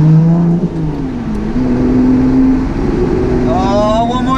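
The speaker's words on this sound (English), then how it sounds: "first proper acceleration, first proper braking" A Lotus Exige Sport 380 sports car pulls hard, its engine note climbing and shifting under steady road and wind roar from inside the cabin, loud throughout.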